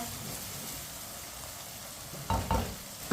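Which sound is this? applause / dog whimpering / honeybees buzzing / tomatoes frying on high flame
tomatoes frying on high flame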